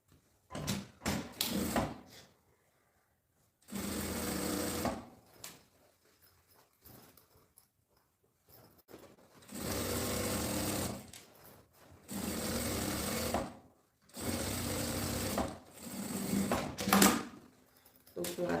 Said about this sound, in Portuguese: Vou também passar uma costura na beiradinha do fundo para poder segurar